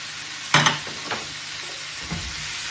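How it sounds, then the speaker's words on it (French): A spoon stirs pepper, rosemary and herbes de Provence into a pot of homemade vegetable stock, with a few sharp scraping strokes over a soft, steady sizzle close by. "et je mélange"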